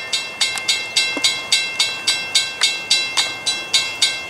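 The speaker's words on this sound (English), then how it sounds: "Oh, we got Amtrak" An Amtrak passenger train passes by, its wheels striking rail joints in a steady, loud clickety-clack of evenly spaced beats, close and with no talk.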